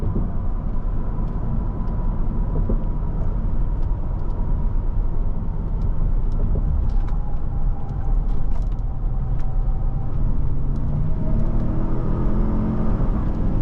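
A 2022 Lincoln Navigator L Reserve accelerates on the road, a steady, muffled engine and road rumble heard from inside the cabin, with no talk.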